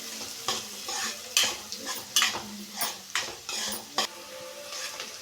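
Onions sizzling in a pan over a low flame while a spoon stirs them, with steady frying hiss and repeated scraping and clinking strokes against the metal, close and fairly loud.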